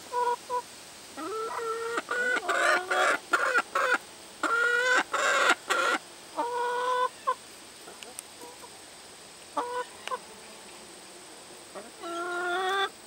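Chickens clucking repeatedly in short bursts at close range, with pauses between calls and a brief crowing-like phrase, during a jumping game with hornworms held up as treats.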